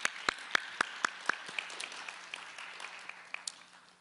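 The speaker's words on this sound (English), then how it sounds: "I'd like to ask you to give a big round of applause to all these contributors." A handful of loud, separate claps ring out at a conference event, followed by a thinner, scattered patter of clapping from the audience that trails off quietly.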